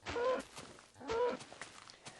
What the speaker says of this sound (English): Noisy cows outside my house